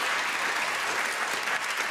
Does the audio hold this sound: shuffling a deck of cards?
no